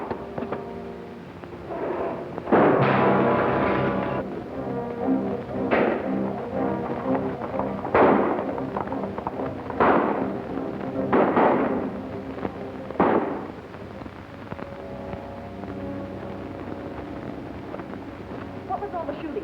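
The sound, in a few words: gunfire shooting in western movie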